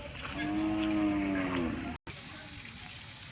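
Cattle moo at a Kangayam bull show at a village festival in Kannapuram, one long, loud, close low call that rises and falls, then a brief dropout, with steady high insect-like or crowd noise behind and no speech.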